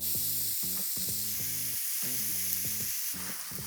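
Onions fry with cured salt pork in olive oil, giving a steady, close sizzle throughout, while a voice hums or talks intermittently in the background.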